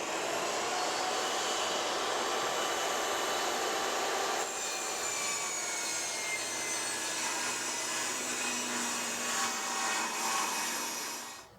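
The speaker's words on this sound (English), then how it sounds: "So we'll set our saw to cut a 5-inch wide riser." A power saw rips a 5-inch-wide wooden stair riser in one long, loud whining cut with a steady roar. The pitch shifts partway through, and the sound winds down at the end.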